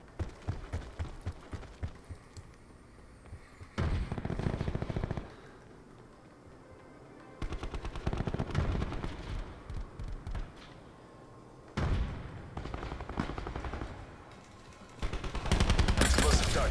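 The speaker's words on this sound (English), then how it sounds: "Explosive dart going out." Rapid gunfire bursts from a video game explosive dart weapon, several loud rattling volleys spaced across the span with quieter gaps and faint talk between them.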